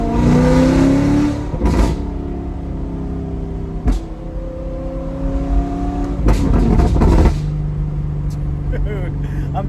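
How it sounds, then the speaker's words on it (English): A tuned C8 Corvette with a Bad News Racing tune and HP Tuners unlock accelerates hard, its exhaust climbing through loud rising revs, with short gear-change breaks and several surges close up. "this exhaust is just wicked."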